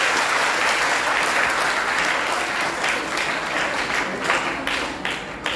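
An audience at a Dua Foundation gathering applauds with steady, dense clapping that fills the room for the whole stretch, loud and sustained with slight swells near the end.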